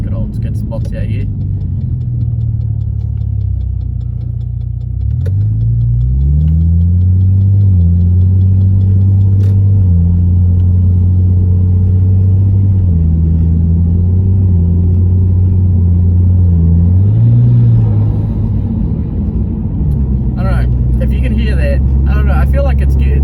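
A turbocharged Ford BF Falcon engine drones steadily while driving, with a low rumble that rises and dips as the revs change, under continuous road and wind noise.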